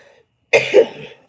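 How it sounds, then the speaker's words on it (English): A single harsh cough with a short follow-up burst, close and fairly loud, after a moment of near silence. "I know I got this cough"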